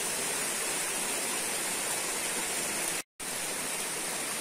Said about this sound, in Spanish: el sonido del agua nos puede deleitar y relajar la mente